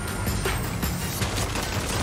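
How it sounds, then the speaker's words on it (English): Dense, continuous rattle of rapid gunfire at the back of a convoy in Saints Row, layered bursts blending into a steady roar with no clear pauses. "why am I seeing gunfire at the back of that convoy?"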